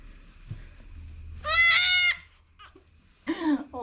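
A newborn goat kid on a farm lets out two bleats, one long, loud, clear call and then a shorter cry, with quiet pauses between them.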